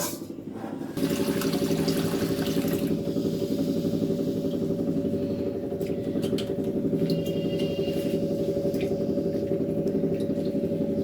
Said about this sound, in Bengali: এবার ডালটাকে আমি ধুয়ে নেব।